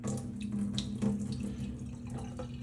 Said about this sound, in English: So give it a rinse 3 or 4 times until the water's almost clear.